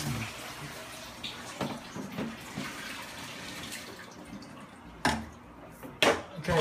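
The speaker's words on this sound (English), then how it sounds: "Okay, we'll turn the water on." Water rushes continuously into a newly set-up aquarium sump system, with a few sharper splashes or clunks near the end.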